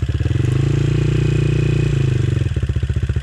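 Avantis 250 Pro dirt bike engine held on light throttle, a loud close pulsing thump that swells, dips briefly and picks up again, with no speech over it.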